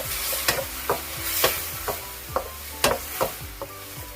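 Cauliflower and shrimp are stir-fried in a pan, with a steady close sizzle broken by repeated sharp scrapes and clinks of a spatula against the metal at an uneven rhythm.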